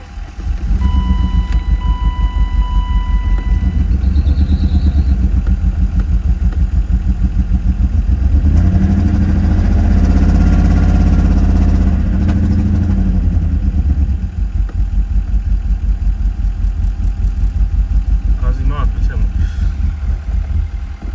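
A neglected BMW E32 740iL being revived, its engine running loud and close with rough clattering idle and a sustained rev rising and falling midway, while someone talks over it.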